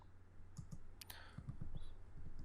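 Fingers typing code on a computer keyboard, a handful of soft, close key clicks in short irregular bursts over a low room hum; no speech.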